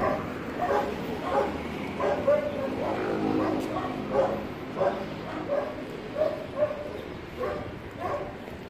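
A dog yips, barks and whimpers in repeated short bursts in a city park, fairly close, with a person talking now and then alongside.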